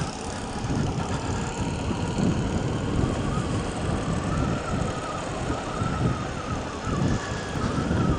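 A Harley-Davidson Street 750 motorcycle is ridden, its engine giving a steady, close rumbling drone mixed with rushing wind for the whole stretch, with no talk.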